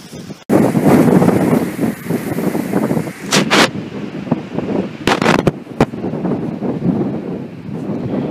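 Strong gusts buffet the microphone beside a railway line in Rosenbach, a loud, roaring rumble that surges and ebbs continuously, with several sharp bursts of wind blast cutting in partway through.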